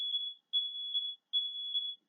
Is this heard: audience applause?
no